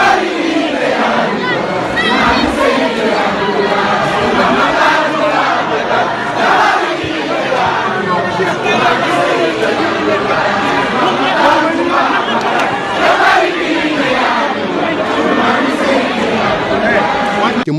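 A crowd of talibés chanting religious songs and praises at an improvised gathering, a dense mass of raised voices singing and calling together, loud and continuous without a break.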